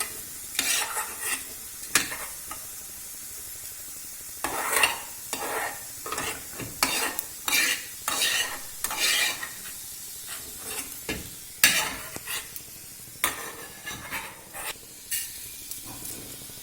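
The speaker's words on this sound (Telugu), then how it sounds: "మినిట్స్లో రోస్ట్ అయిన తర్వాత కొంచెం లైట్ రెడ్ కలర్లో వచ్చాక తీసుకొని పెట్టుకోవాలి" Curry leaves roast and crackle in a pan for curry leaf powder, with irregular bursts of sizzling and stirring scrapes repeating throughout, moderately close and without talk.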